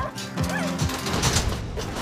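A dog gives a few sharp barks and yips layered with whimpering over a dense, loud background, close and agitated.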